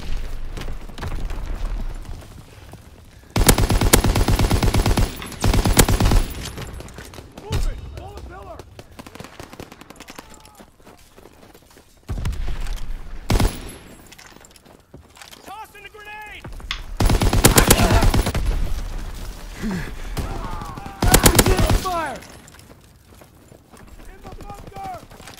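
Bursts of automatic gunfire from a World War II-era weapon in Call of Duty WW2 multiplayer, several loud rapid volleys separated by quieter gaps, with someone talking between them.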